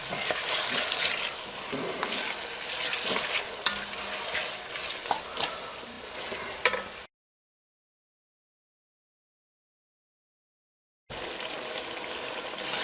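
Two diced white onions sauté for clam chowder in a pot with a busy, crackling sizzle and stirring scrapes, then the sound cuts to a few seconds of total silence before the sizzling returns.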